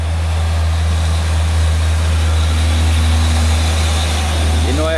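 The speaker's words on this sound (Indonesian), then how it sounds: "truk Hino teman-teman" A Hino FM 250 JW truck loaded with palm kernels rumbles past on a roadside, a loud, steady low engine drone that dominates throughout, with a faint rising tone near the end.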